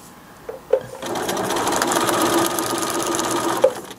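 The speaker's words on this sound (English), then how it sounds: "I'm going to sew beginning before A6" A sewing machine stitches a short seam through fabric and foundation paper in paper piecing, a close, steady motor hum lasting a few seconds between small clicks at the start and end.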